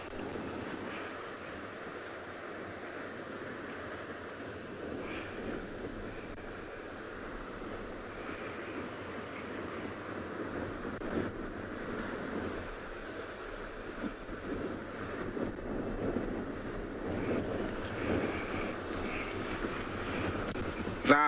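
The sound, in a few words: flowing river water in the Mara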